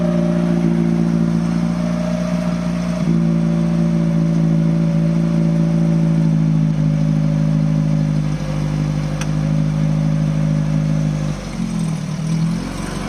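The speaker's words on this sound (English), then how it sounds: "start it up and see if we can get into gear and go for a drive" A classic car pulled out of a lock-up garage runs with a steady, loud, droning engine note, then shifts pitch and revs briefly near the end, with no voices over it.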